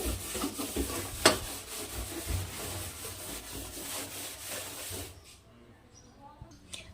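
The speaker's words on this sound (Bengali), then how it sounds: "এইভাবে জাস্ট নর্মালি ঘষে নিলেই কিন্তু এটা একদমই চকচকে পরিষ্কার হয়ে যায়" A gas oven burner scrubbed with a scouring pad, steady close rubbing and rasping strokes for about five seconds, then quieter handling.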